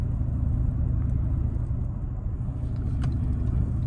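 The engine of a 2024 Toyota Tacoma TRD Sport Hybrid pickup runs as the truck climbs a hill, giving a steady, loud, low rumble from inside the cab with no talk.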